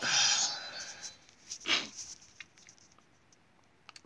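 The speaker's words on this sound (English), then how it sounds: "Sorry if you hear me sniffling." A person sniffling through the nose, a few short breathy sniffs close to the microphone with quiet clicks and shuffling in between.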